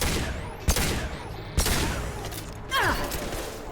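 Gunfire in the video game Mass Effect 2, with sharp shots near 0.7 s and 1.6 s over a dense broadband rumble of combat noise, then a descending whoosh-like effect near the end.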